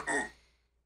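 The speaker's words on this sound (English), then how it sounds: "Was that a burp?" A short cartoonish burp from a Tamagotchi character in the My Tamagotchi Forever game, a single quick belch that fades within half a second, heard alone and fairly quiet.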